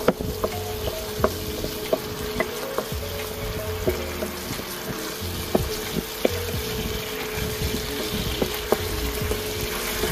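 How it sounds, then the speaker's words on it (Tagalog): Eggplant mixture sizzling in a frying pan while being stirred, a steady close hiss broken by light scraping taps of the utensil against the pan, with no voices. "Then, halu-haluin lang natin para mag-mix."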